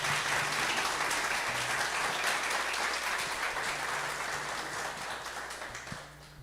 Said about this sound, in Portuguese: Nós pedimos a você agora que possa prestar uma homenagem a cada um deles com uma salva de palmas.